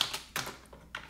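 Several soft keystrokes on a computer keyboard land in small bursts while SQL code is typed, faint and close, with no talk.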